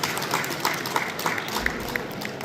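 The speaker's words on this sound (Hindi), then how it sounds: "पहले मैं चाहूँगा आप सब तालियां बजाएं" Audience applause at a book launch for a Hindi short-story collection at the World Book Fair: a steady, diffuse wash of many hands clapping at moderate, somewhat distant level, without a clear beat.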